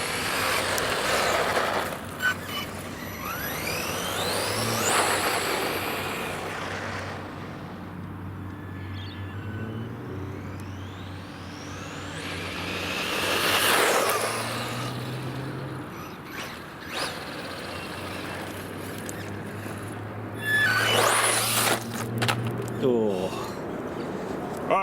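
A brushless 3S RC car with a repaired motor drives fast, making several whining passes that rise and fall as it nears and moves away, over steady background noise.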